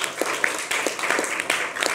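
A television studio audience gives brief, scattered applause, a light patter of clapping lasting about two seconds at moderate loudness.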